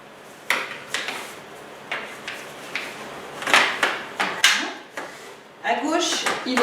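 A plastic case held by clips on a Kiddy City n Move unit is pushed shut, giving a series of close clicks, taps and plastic knocks at irregular intervals, with a voice speaking over parts of it.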